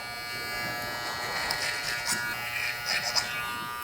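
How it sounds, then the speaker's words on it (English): Hair clippers buzz steadily as they cut over a comb during a barber's curly-mullet-to-classic haircut, a close, continuous electric hum with small surges as the blade passes through hair. "Clipper over comb."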